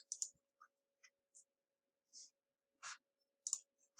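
Several sharp, quiet clicks of a computer mouse in near silence, spaced irregularly, some in quick pairs.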